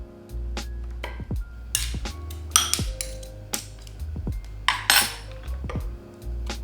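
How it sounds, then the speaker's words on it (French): A spoon clinks and scrapes repeatedly against a bowl while overnight porridge is stirred with hazelnut milk and honey, sharp metallic taps recurring at an uneven rhythm, close and clear with no talking. "Je mélange à nouveau"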